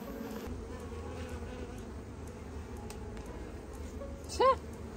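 Honey bees buzz steadily around a heavily robbed, emptied hive, a faint, continuous droning hum with one brief louder whine as a bee passes close to the microphone.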